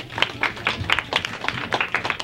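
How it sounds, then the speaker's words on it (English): Small audience applauding four young debaters at a school debate, a short run of scattered, moderate claps with slight room echo. "give our four debaters a round of applause"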